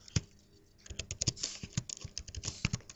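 Quiet, close typing on a computer keyboard: uneven bursts of light key clicks with brief pauses between them.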